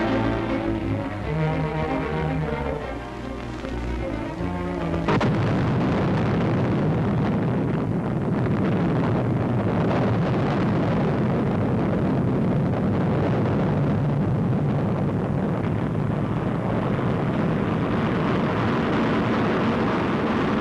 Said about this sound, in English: The 85-foot missile goes aloft in a near-perfect takeoff.